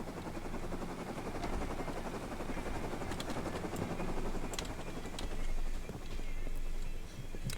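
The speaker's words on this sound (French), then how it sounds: "Oh, hélico." A helicopter lands in the survival video game Rust. Its rotor chop is loud and continuous, swelling and fading slightly as it settles, with no speech over it.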